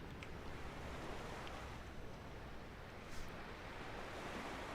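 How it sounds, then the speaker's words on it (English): Continuous simulated surf from Microsoft Flight Simulator's Corfu coast, a dense, even rush of waves on the shore with light wind noise, no talking over it. "Can you hear the waves?"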